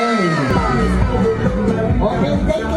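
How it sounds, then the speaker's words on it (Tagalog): An excited audience cheers, whoops and shouts at a loud, steady level for a short burst, with a babble of many voices mixed into the crowd noise. "Pinakamalakas na palakpak, siya magkakamit ng gantimpala."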